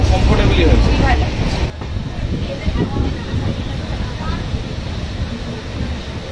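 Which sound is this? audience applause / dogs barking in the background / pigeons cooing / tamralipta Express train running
tamralipta Express train running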